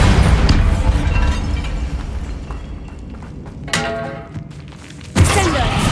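Bombarda blasting spell going off in a Harry Potter video game, a heavy booming explosion with a deep thud that rolls out and decays, followed by a second sharp burst near the end; a voice shouts briefly.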